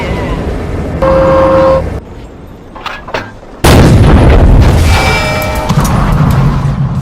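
Weapons firing in a stop-motion animated battle, with loud blasts and booms bursting out amid tonal horn-like toots, a quieter stretch, then a heavy sustained barrage with voices mixed in.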